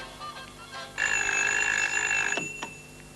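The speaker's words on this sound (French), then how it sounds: "Le téléphone n'a pas cessé de sonner de toute la matinée." A telephone bell rings loudly in a single sustained burst lasting over a second, close by, followed by a faint clunk and quiet room tone.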